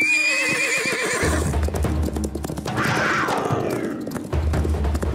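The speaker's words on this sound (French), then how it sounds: "Il attaque un de mes chevaux!" A loud, close horse whinny rises and trembles as a puma attacks it, followed by snorting and hoof clatter.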